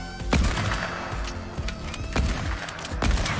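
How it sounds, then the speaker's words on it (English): Gunfire in the video game Fortnite: several sharp shots spaced across the moment, some sounding close and loud, others softer and farther off, over a constant game background. "Oh, someone's taking shots too from inside of tilted."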